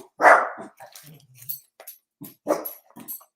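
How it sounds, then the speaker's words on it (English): A dog barks indoors in a home kitchen, a sharp close bark followed by softer yips, low whines and a second bark, with no one speaking. "I'm going to kennel you if you bark at me again"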